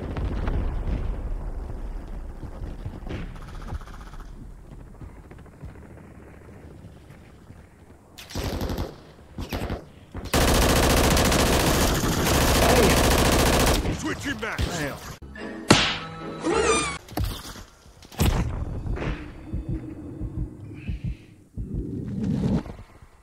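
Call of Duty gunfire: sustained automatic bursts and heavy explosive blasts erupt in loud, dense stretches, broken by quieter gaps of game ambience and distant shots.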